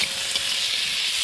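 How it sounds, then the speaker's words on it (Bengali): Young jackfruit and boiled potato fry in a pan with a steady, close sizzle and a faint stirring hiss, with no talk over it. "হিঁচড় আলুটা সুন্দর করে ভেজে নিয়েছি"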